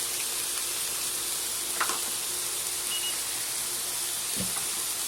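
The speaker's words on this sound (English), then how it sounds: "Add some butter to my mushrooms." Mushrooms frying in butter in a hot pan give off a steady, close, loud sizzle and hiss throughout, with an occasional faint clink or stir.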